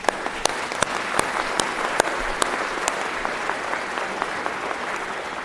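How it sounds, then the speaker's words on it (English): A graduation audience at Marshalltown Community College claps in a sustained, moderately loud round, with a few sharp individual claps standing out near the front over the dense crowd applause. "let's give her one more big round of applause."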